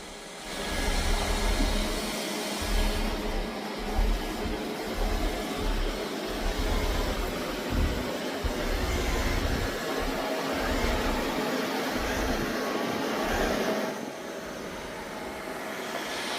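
A Samsung Bespoke Jet Bot Combo AI robot vacuum and mop running a cleaning cycle indoors, giving a steady close whirring motor hum with slight rises and dips as it moves. The sound holds for the whole stretch and there is no talking.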